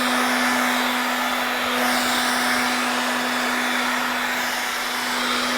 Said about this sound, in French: Le décollage du carton, c'est simple, un sèche-cheveux.